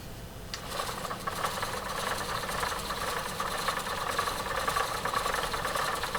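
A handmade NONA spinning wheel runs steadily on its spindle with a continuous, fairly quiet mechanical whir and faint rhythmic rattle, with no talking over it.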